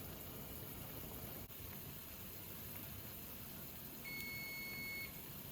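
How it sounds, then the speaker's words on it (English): Kitchen timer going off while chamchams are being made, a faint steady beep about a second long over quiet hiss, heard alone without speech. "Okay, so the timer goes off."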